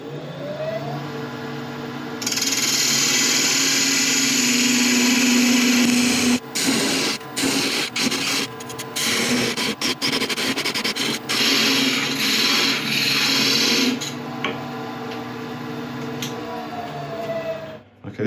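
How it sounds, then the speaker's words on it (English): A wood lathe runs with a steady droning hum while a skew chisel cuts a bead, its contact sounding as choppy, gritty bursts through the middle stretch before the motor spins down alone near the end. "This time I'm going to use the skew to create the bead"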